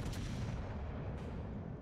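Warship guns firing in World of Warships, a heavy booming blast near the start followed by a dense low rumble that rolls on to the end.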